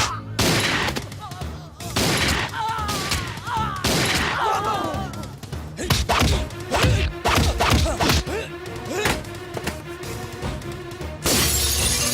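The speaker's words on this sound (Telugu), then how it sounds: "అక్కడ కాల్చు." Gunfire crackles through a Telugu movie scene, with rapid bursts of shots and shattering impacts mixed with music and voices, loud and dense throughout.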